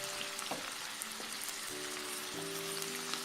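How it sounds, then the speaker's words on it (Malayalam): Green chili, ginger, garlic and curry leaves sautéing in oil for Kerala-style lemon pickle, a soft steady sizzle with a few faint tonal clinks and hums, no voices. "ഇനി ഇതിലേക്ക് പച്ചമുളക്, ഇഞ്ചി, വെളുത്തുള്ളി, കറിവേപ്പില ഇവയിട്ട് നന്നായിട്ടൊന്ന് വഴറ്റിയെടുക്കാം."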